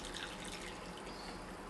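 Water pours steadily into a saucepan for a one-to-one sugar syrup meant as bee feed, a continuous close splashing and trickling with no talk over it.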